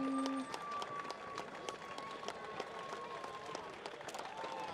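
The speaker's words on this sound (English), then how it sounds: "Big round of applause there" Applause for both teams at a Battle of the Nations 5 vs. 5 final, a faint, distant, continuous patter of clapping with crowd noise and a few brief tones.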